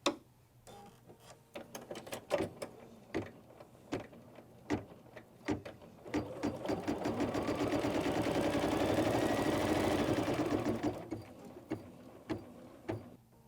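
A sewing machine stitches a quilt triangle held in an embroidery hoop, a steady mechanical whir lasting several seconds between scattered sharp clicks and ticks.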